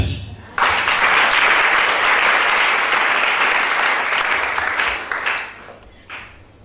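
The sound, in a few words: audience applause in church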